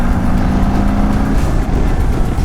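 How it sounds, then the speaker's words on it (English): A 2023 Indian Sport Chief motorcycle's exhaust drones loud and close, a steady throaty engine rumble with a held low tone early on that fades into rough, even idle-like growl. "Not the induction, but that exhaust sounded good."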